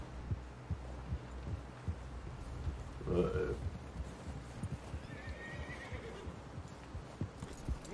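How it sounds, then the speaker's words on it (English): In Red Dead Redemption 2 gameplay, a horse whinnies once mid-clip while hooves clop in a steady rhythm underneath, set against a low ambient background. "Someone help John down off this horse"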